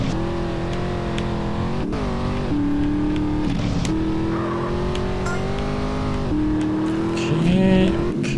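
Race car engines in GTA San Andreas drone loudly and continuously, pitch rising and falling through gear shifts, with a brief squeal-like tone near the end and no talking.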